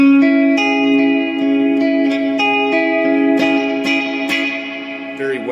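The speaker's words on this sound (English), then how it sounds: "The reverb pedal in the Space Age position." Strummed electric guitar chords through a JHS Alpine reverb pedal on its Space Age setting, drenched in lush, airy reverb, each strum blooming and ringing out with a long shimmering tail.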